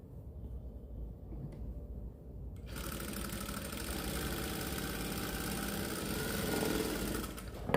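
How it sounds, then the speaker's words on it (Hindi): Sewing machine stitching down folded pleats on fabric for a kurti, a steady mechanical whirring hum that starts quiet and grows louder and fuller partway through, running continuously with no talking. "उसके बाद हम सारी प्लेटों पे इस तरीके से हम सिलाइयाँ लगाएंगे।"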